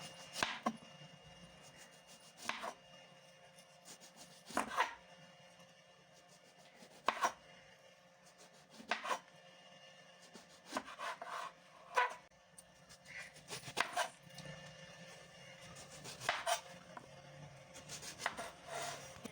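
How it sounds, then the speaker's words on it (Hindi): A knife chops through eggplant on a board, slicing it into rounds: about a dozen crisp, evenly spaced cuts at roughly two-second intervals, close and clear, with no talking. "तो अब जो बैंगन है उसको काट लेते हैं"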